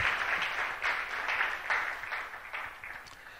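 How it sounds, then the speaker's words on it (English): An audience at the AGRA 3.0 strategy launch event applauds steadily throughout, a dense, moderately loud wash of clapping that swells and eases slightly. "A round of applause for AGRA, ladies and gentlemen."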